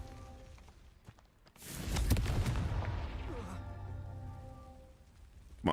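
A Confringo blasting spell explodes in Hogwarts Legacy, a loud burst that swells into a long rumbling roar lasting several seconds, with a voice talking faintly underneath.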